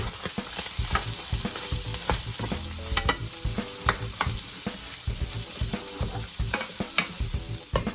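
Onions sizzle and fry in a skillet, about a cup per pan, with steady crackling and repeated stirring scrapes close by, loud and continuous with no talk.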